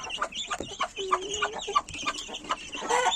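Young chickens hatched from an incubator peep and cluck close by in a brisk, continuous chatter of short, high calls, with a few brief voices mixed in.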